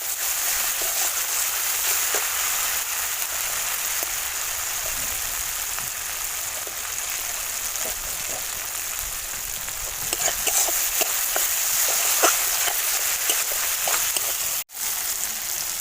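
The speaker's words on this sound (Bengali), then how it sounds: "যতক্ষণ মশলার গা দিয়ে তেল বেরায় ততক্ষণ একটু কষতে থাকবো" Spices sizzling and frying in oil in a pan for an egg dish, a steady close crackle with a faint clatter of stirring, briefly louder near the end before a sudden short gap.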